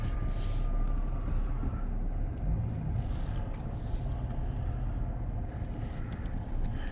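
A GM truck with an 8L90/6L80 transmission drives around the block, heard from inside as a steady low rumble of engine and road noise that continues throughout, with no talk.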